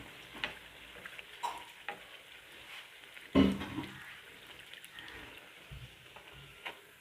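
Pooris deep-frying in hot oil give a soft, steady sizzle with faint crackles and a brief louder burst of bubbling midway, heard alone with no talk.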